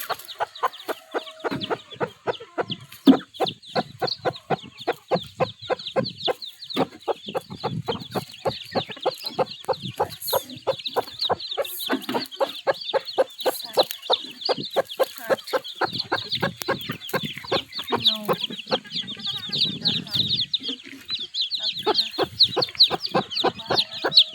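A mother hen with her newly hatched chicks clucks in a long run of rapid, rhythmic calls, with high chick peeps layered above, close by and continuous with no talking.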